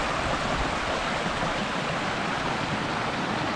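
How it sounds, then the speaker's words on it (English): Small streams and little waterfalls beside a Mount Diablo State Park trail pour in a loud, constant, even hiss of rushing water, close by with no talk. "These are little waterfalls, but they are fun. They're just little streams."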